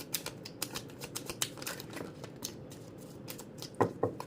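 Tarot cards being shuffled by hand, a quick run of soft papery flicks and taps close by, with a couple of sharper clicks near the end and no talking.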